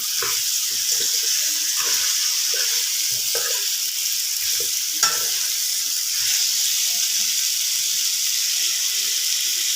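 Chicken and potato curry sizzles steadily in a pan with a bright, constant frying hiss, while scattered stirring scrapes and clinks sound close by throughout.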